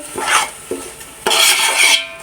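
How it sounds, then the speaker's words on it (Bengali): Rice frying in hot oil in a pan for khichuri: close scraping and stirring sounds from a spoon against the pan, coming in uneven strokes over a soft sizzle, with no voices. "তেলটা গরম হয়ে গেছে, এতে চালটা একটু ভেজে নিচ্ছি।"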